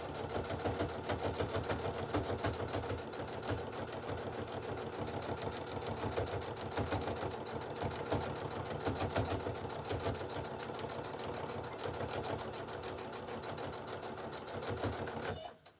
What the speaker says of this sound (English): Get right on the edge, drop your presser foot, stitch a few stitches,